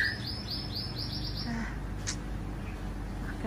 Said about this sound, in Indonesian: Ada temennya manuk-manuk itu ya.